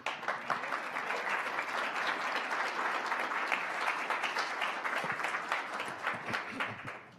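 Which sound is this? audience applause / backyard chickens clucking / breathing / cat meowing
audience applause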